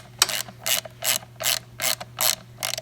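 A ratchet snugs the rear skid plate mount on a 2018 Husqvarna TX 300 dirt bike, six or seven evenly spaced bursts of clicking from close by, each a quick swing of the handle, with no talk.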